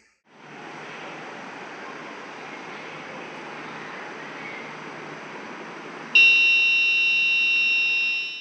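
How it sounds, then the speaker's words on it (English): A soft steady hiss runs for several seconds, then a loud, piercing electronic buzzer tone, triggered through an Arduino UNO board, cuts in and holds steadily before fading out. "If the driver has closed his eyes more than for 5 seconds, a buzzer will be triggered through Arduino UNO board"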